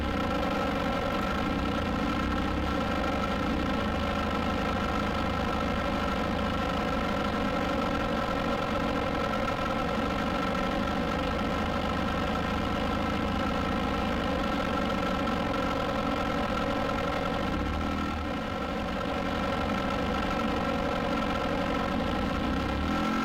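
A small RC Cub model airplane engine runs at a steady idle while taxiing at a club flying field, a constant buzzing drone with rich harmonics that holds level throughout, close and unbroken.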